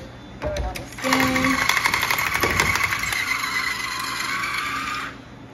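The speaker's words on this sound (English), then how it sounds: "we're gonna demo the new cordless SKINZIT on some bluegill fillets" A cordless electric SKINZIT fish skinner strips skin from bluegill fillets, giving a steady close buzzing whir that runs for about four seconds after a few short starts, then stops abruptly.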